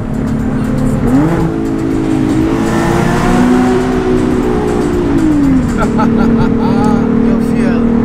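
A Nissan 370Z sports car engine revs loudly and close, its pitch rising and falling through several throttle sweeps over a constant roar.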